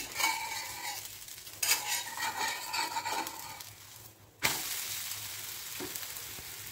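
Bottle gourd roti fries in oil on a pan with a steady close sizzle, broken by a couple of scraping, clattering moments as a utensil turns it.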